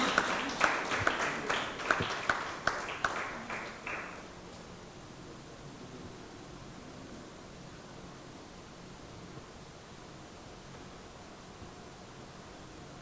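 An audience claps for a guest speaker at a Nigerian Navy security event: a burst of close applause for about four seconds, then it stops abruptly, leaving faint room noise.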